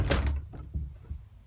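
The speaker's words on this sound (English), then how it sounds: "it does have a sliding door," Wooden sliding door in the master bedroom of a 2002 Aljo 28 ft travel trailer, rolling and thudding shut with a hollow knock followed by a few softer bumps, close by with no talk.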